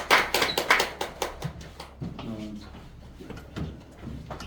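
A church congregation at a 2024 Christmas service claps in blessing: a quick run of sharp, rhythmic claps that thins out after a second or so into scattered taps and quiet room sound.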